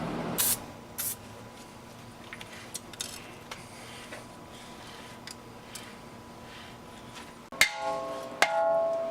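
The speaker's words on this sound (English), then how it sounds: "Put some more WD-40 on, now that it's all seeping in." WD-40 sprayed onto a stuck brake rotor during a big brake install on a Mk7 GTI, heard as short faint hissy bursts early on, then quiet clinks and a louder metallic clatter near the end.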